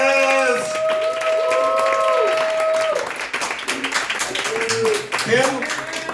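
Comedy club crowd at Cafe Istanbul applauding and cheering for comedian Atlas, dense close clapping that keeps going while whoops and a voice rise above it.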